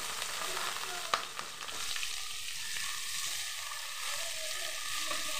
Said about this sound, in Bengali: পেঁয়াজটা লাল হওয়া পর্যন্ত নাড়তে থাকবো আমি